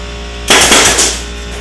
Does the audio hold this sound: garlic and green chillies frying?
no